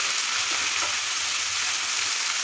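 Curry leaves and drumstick leaves sauté in a pan, giving a dense, continuous sizzling hiss with soft stirring texture beneath, steady and close with no talking.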